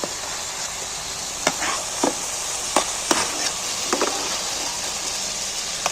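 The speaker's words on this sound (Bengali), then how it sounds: "এইবার আমি দেখো ফুলকপি গুলোই মশলার মধ্যে তুলে দিচ্ছি" Cauliflower florets fry in a hot spice masala for an egg and cauliflower rice dish, giving a steady close sizzle broken by a few sharp clinks and scrapes of stirring.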